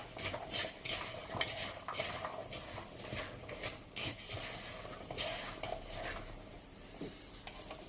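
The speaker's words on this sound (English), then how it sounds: "Just give them a quick stir." Coated taco filling ingredients being stirred in a pan, a soft rhythmic scraping and shuffling with a gentle sizzle underneath, fairly quiet and close.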